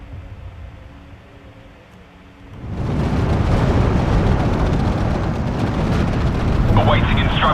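Tanks blowing up in a video game: after a quieter opening, a loud, sustained explosive roar swells in and holds, with a brief crackle near the end.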